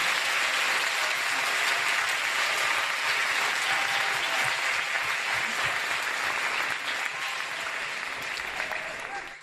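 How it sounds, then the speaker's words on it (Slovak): Sustained applause from a large audience at a church celebration of the 300th anniversary of the Ursuline sisters in Trnava, dense steady clapping filling the whole stretch at full loudness. "Obrovský potlesk pre rodinu Lipovský"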